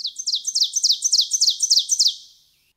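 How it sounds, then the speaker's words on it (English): A bright, high ovenbird song made of one two-note phrase repeated rapidly about a dozen times, growing slightly louder then stopping abruptly. "Oven birds make the same sound many times in a row"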